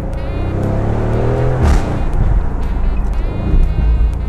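Aston Martin Vantage convertible with an AMG-sourced engine roars loudly and steadily at close range, with a sharp burst and crackle partway through before the deep drone carries on.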